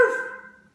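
A puppy named Biscuit gives a single short, bright bark that rings briefly and fades out, with no other sound around it.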